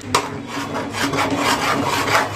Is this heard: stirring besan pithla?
yes